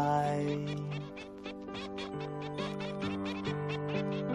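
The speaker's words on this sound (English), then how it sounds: "Hear them quack as they go by." Ducks quack in a rapid, repeated series as they float past on water, the calls fairly close and steady throughout, layered over a sustained musical backing with no talking.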